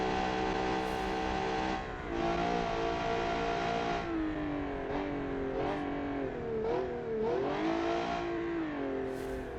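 Naturally aspirated race car engine in a Le Mans racing video game, revving hard and holding high rpm with rising and falling pitch sweeps through gear changes, loud and continuous with no talk.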